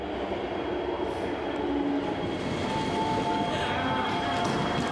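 A passenger train carries travellers from Hong Kong into the mainland, its steady rumbling roar and rattling wheels filling the space continuously, with faint squeals and a background voice now and then.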